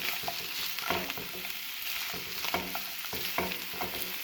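Onions stirred in a frying pan while preparing chicken pizza cutlets, a steady sizzle with repeated scraping strokes of the spoon at close range, no voices.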